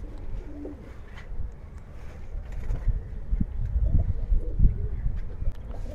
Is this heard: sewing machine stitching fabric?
no